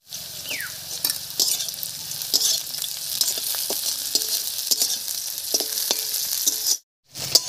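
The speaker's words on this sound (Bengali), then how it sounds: "এবার এর মধ্যে দেবো চিড়ে রাখা কাঁচা লঙ্কা" Slit green chillies and browned chopped onion stir-frying in mustard oil in a wok, a continuous bright sizzle with spatula scrapes and clicks, cutting off briefly near the end.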